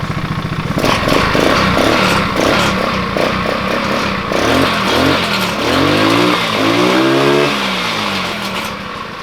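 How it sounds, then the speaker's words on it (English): A small 200cc go-kart engine revving up and down nearby, its loose exhaust missing a nut rattling and buzzing over the sputtering motor. "And the rattling you're hearing is the exhaust."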